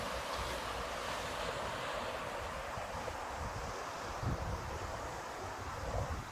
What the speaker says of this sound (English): And there's a lot of water pushing against the bridge there.